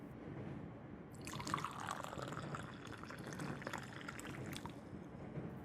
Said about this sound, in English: When they twist the cap and start to pour